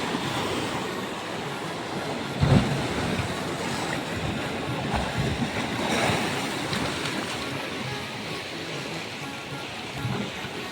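Sea waves at Chorwad beach on the rocky Gujarat coast, a continuous wash of surf with a few louder breaking swells, moderately loud and without talk.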